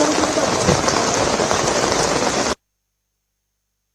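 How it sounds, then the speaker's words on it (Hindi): Rain pours steadily and loudly for about two and a half seconds, a dense continuous hiss that cuts off abruptly into silence. "अभी तो क्या हो रहा है, बारिश हो रही है"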